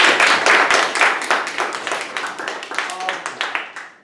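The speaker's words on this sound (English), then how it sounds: "A round of applause for our honorary judges." Applause and clapping from a classroom audience at a school stem cell debate, greeting the honorary judges; dense hand claps that start loud and gradually thin out and fade over about four seconds.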